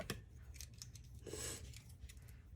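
Scissors snip through ribbon while a bow is assembled, a few quick crisp cuts close to the ear over a low steady background hum, with no talking.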